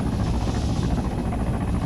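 A helicopter gunship flying in the video game Arma 3, a steady, loud rotor and engine drone with rhythmic blade chop holding evenly throughout.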